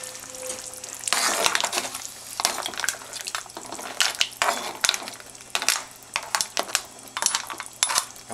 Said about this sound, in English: I'm going to give those a stir.